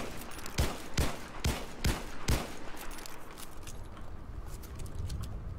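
A blaster tap-fired in the Star Wars Battlefront video game, five sharp evenly spaced shots in quick succession followed by a quieter stretch of ambient game noise.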